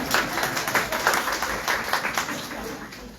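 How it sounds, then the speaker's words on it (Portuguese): Audience applause at a talk on practical everyday spirituality, a steady wash of many hands clapping at moderate level, continuous through the short stretch and slowly easing. "Uma salva de palmas para esse homem."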